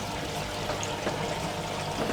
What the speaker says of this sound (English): because we've got a rush of water coming out of the fish tank into here